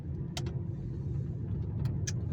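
A car drives along on a Monday-morning commute to work, its steady low road and engine rumble filling the cabin throughout, with a couple of brief ticks or clicks rising over the drone; no one speaks.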